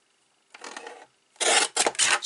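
Cardstock being trimmed for a kite fold card, with a short paper-cutter slide followed by a louder rasping cut and a couple of quick scraping strokes, close up in a quiet room.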